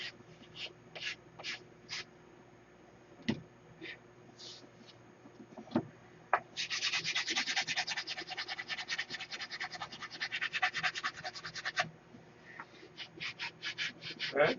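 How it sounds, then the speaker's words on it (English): Coarse 30 grit sandpaper rasps against a surface in a hangar: scattered scrapes and knocks at first, then a sustained burst of rapid, gritty back-and-forth strokes lasting about five seconds, followed by a few short strokes. "I'm surprised nobody's called me out on 30 grit sandpaper yet."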